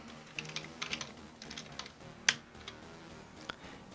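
Quick, light keystrokes tap on a computer keyboard, a short irregular burst followed by a sharp, louder key press and one last tap, close and with no one talking.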